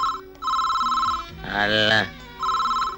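A telephone rings with repeated bursts of a bright electronic ring broken by short gaps. In the middle a voice speaks over it, and the ring resumes afterward.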